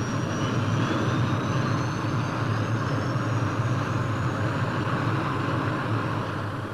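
A search and rescue helicopter on a 1975 aircraft carrier flight deck spins up its rotors, giving a steady, loud engine roar and whine that holds evenly throughout.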